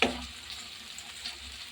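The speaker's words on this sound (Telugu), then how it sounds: "బెండకాయ అయితే కొంచెం వేగింది." Okra frying in a pan, a steady soft sizzle of oil running close and even throughout, with no voices over it.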